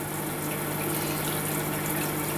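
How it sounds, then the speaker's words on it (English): Water rushing into an RV toilet bowl from a lightly pressed foot valve in a 2019 Highland Ridge Open Range 374BHS, a steady close hiss of flow lasting the whole moment. "By pushing the valve slightly, you're going to bring water into the bowl"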